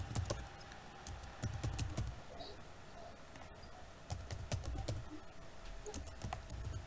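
Clicky keystrokes on a computer keyboard as text goes into a search box, irregular bursts of quick taps with short pauses, faint and close in a quiet room with no talking.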